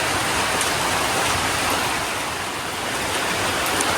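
Heavy rain pours down steadily all day, a dense, even wash of noise with no let-up and no voices.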